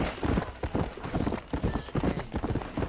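Horse hooves clip-clop at a steady walking rhythm in Red Dead Redemption, close and continuous for the whole stretch, with a faint whinny in the background.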